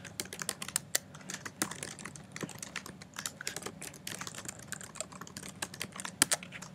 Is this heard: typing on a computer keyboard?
yes